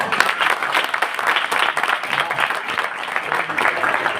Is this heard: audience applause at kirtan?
yes